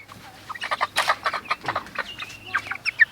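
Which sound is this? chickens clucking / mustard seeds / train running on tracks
chickens clucking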